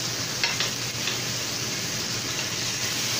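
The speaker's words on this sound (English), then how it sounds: "So I've been heating the skillet, so I'm now gonna put in the lamb chops." Lamb chops sear in a hot skillet with a steady, dense sizzle that holds at an even level throughout, broken by a few faint clicks near the start.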